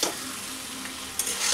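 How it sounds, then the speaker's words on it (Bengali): A spice masala sizzles as it is stir-fried in a pan, with a steady close frying hiss and brief scraping stirs and no voices. "এটা খুব ভালো করে আমি একটু কষিয়ে নেব মশলাটা"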